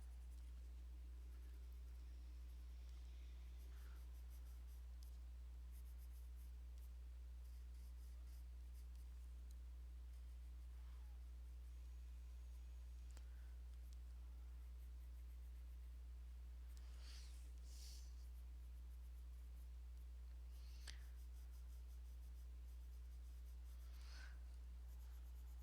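Colored pencil scratching and stroking across paper while ribbons are filled in on a drawing, a faint close rasp of short repeated strokes with brief pauses under a steady low background hum.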